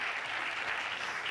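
Audience applause at a Radcliffe Day keynote conversation, a dense, steady wash of many hands clapping throughout, fairly close and uninterrupted, with no voices over it.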